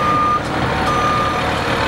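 A large Ford F-650 truck sounds its reversing alarm, a steady high beep tone repeating over a loud diesel engine rumble close by.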